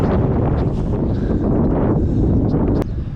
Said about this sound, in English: This wind is a little brutal.